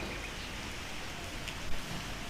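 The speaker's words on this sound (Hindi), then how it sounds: "और जब वापस आश्रम लौटने लगे तो बारिश होने लगी।" Steady rain falling, a continuous soft hiss with faint scattered drops, fairly close and even throughout.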